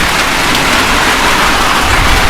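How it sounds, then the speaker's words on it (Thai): Steady heavy rain pours down outdoors, a loud continuous wash of drops on surfaces with no let-up and no voices. "อากาศโอ้ฝนตก"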